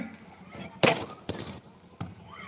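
Several sharp firework bangs burst out one after another, loud and close, at a village church festival, with crowd chatter and a voice murmuring in the background between them.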